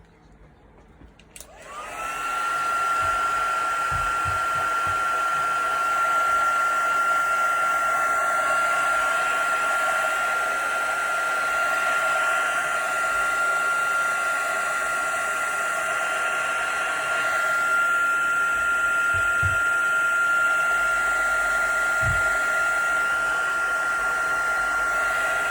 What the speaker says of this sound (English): And then I will definitely dry those off.